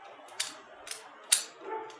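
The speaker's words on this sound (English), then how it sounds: "is to shuffle the cube." A 2x2 gear cube puzzle being shuffled, giving a few sharp plastic clicks and clacks spaced irregularly, close and fairly quiet.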